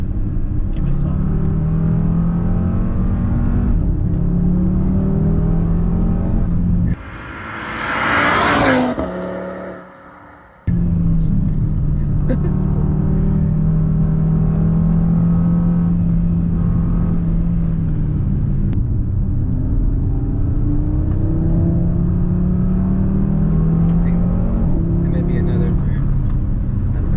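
A 2020 Audi RS3 pulling hard under acceleration, a steady close engine drone rising in pitch through gear changes, with a brief loud whooshing burst midway and talk over it.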